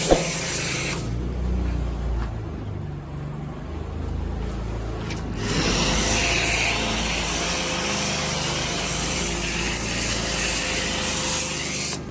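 A car being scrubbed with soap at a car wash in Saudi Arabia: steady, close rubbing and swishing with a hissing spray-like texture, growing louder and fuller partway through and continuing without pause.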